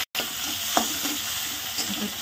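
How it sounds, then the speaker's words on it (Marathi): Tomato fries with garlic in a hot pan, a steady close sizzle broken by the soft scrape of stirring. "टमाटा भाजून घ्यायचा चांगला."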